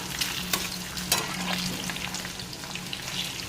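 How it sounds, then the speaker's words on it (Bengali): Long strips of chicken for chilli chicken fry in hot oil, a steady close sizzle with a few sharp pops and light stirring scrapes. "তাই চিলি চিকেন আর রুটি হবে তাই চিকেনগুলো ভেজে নিচ্ছি"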